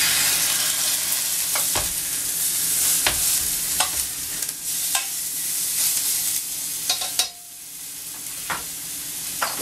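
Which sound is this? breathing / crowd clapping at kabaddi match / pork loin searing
pork loin searing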